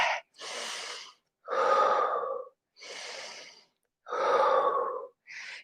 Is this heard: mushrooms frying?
no